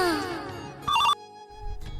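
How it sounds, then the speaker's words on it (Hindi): A mobile phone ringtone gives a short, bright electronic ring of about a quarter second, standing out from quieter background sounds before and after it. "अरे काका फोन आ गया।"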